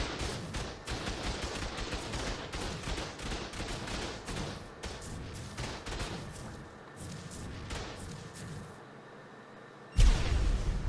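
Rapid bursts of gunfire from a Tech Rex shooting at turrets during a raid in Ark Survival Evolved, dense and continuous for most of the span, easing slightly before a sharp loud burst near the end.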